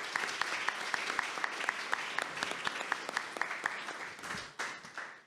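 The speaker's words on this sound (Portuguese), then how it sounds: "uma salva de palmas" Audience applause after a call for a standing ovation in a podcast studio setting, steady clapping from a group with a few sharper individual claps standing out, fading toward the end.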